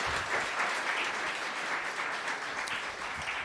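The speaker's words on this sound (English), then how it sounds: "So one more round of applause for all our presenters tonight, please." An audience at a Seattle tech meetup claps for the evening's presenters, a dense, steady round of applause filling a room, moderately loud and sustained throughout.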